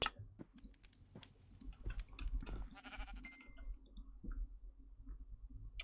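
Sheep bleat in a blocky village-building video game, a few short cries mixed with rapid clicking and other game sounds, fairly close and with no talking.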